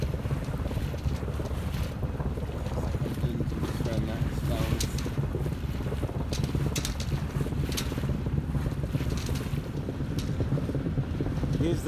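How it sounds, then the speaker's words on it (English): Wind blows hard and steadily over a sailboat at sea off Dodman Point in Cornwall, a loud, continuous rushing roar that buffets the microphone throughout with no pauses. "Here's the conditions approaching Dodman Point. It's pretty blowy."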